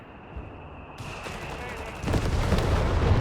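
Machine gun and artillery fire in a Company of Heroes 3 battle with Flak 30s, a faint tone giving way to a sudden dense burst of overlapping shots and booms that swells louder toward the end.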